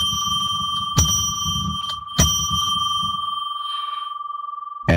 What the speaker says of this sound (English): I'm going to ring a bell 3 times to declare sacred space.